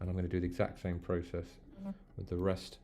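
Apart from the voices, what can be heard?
No distinct noise like a dog, phone or traffic.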